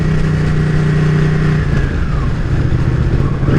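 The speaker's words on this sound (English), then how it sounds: "Gotta love that exhaust too." A Ducati Panigale's engine revs loudly up close through its exhaust, a sustained throaty roar that rises and settles over a few seconds.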